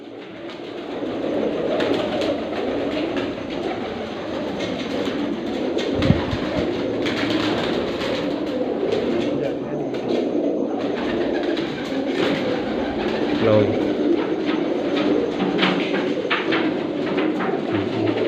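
Purebred pigeons, including large Ferozpuri birds, coo steadily and near, with many overlapping calls, wing flutters and a constant low background rumble, and no talking.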